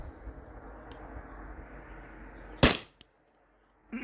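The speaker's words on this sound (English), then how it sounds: "this is basically shot 6 through 10 on the same CO2 cartridge" A CO2-cartridge-powered Byrna SD launcher fires a single sharp, loud pop close by, followed by a brief click and then quiet, as one of several shots on the same cartridge.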